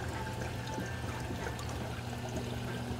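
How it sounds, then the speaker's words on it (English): A sprayer nozzle on a lock-line return agitates the surface of a 120 saltwater aquarium, making a continuous, even splashing and trickling of water. "I have the sprayer nozzle right there, kind of agitating the top of the water."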